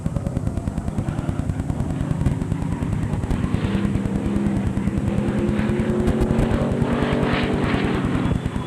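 Race cars circling a dirt-track oval during a three-car stock car feature, a steady roaring engine drone that swells and fades as the cars pass, with no talking.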